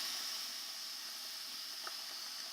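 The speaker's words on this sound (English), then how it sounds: "Hear that sizzle?" Food sizzles in a pan on a stove, a steady, close bright hiss that runs unbroken for a few seconds, with no voices.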